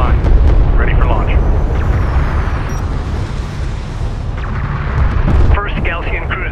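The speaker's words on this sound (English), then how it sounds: "First Galtian cruiser destroyed." A Galtian cruiser is destroyed in the real-time strategy game Homeworld: Deserts of Kharak, a loud rumbling blast layered over continuous battle fire and booms, with a sharp burst near the end.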